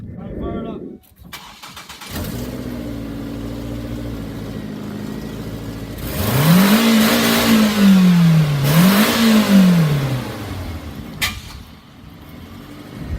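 A car engine cranks and fires up, settles into a steady idle, then its exhaust swells through two loud rising-and-falling revs before dropping back, heard close.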